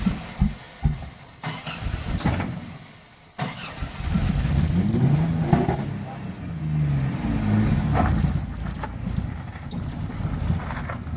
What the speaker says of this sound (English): Definitely running on all cylinders.